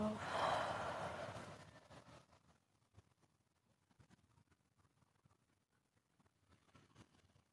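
A slow exhale during a guided breathing exercise, breathy and soft, loudest in the first two seconds and then fading into faint rustles and low background noise.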